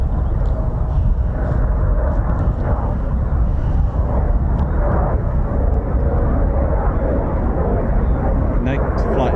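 Military jets at RAF Coningsby pass with a broad, continuous roar that swells and rolls on throughout, moderately loud with a faint voice in the background.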